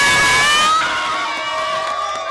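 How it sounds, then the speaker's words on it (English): A crowd at a competitive game event in New Orleans cheers and whoops loudly for the winning team. It starts at a high pitch and settles into a sustained roar. "Let's clap it up for 225."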